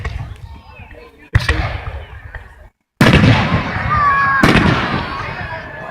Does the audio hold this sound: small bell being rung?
no